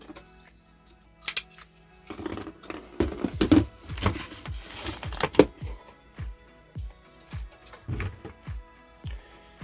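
Scissors snip drinking straws into short pieces, a series of sharp, close clicks and crunches in uneven bursts against a quiet background.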